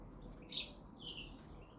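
Wild birds at a garden feeder give a few faint, high chirps over quiet background hiss.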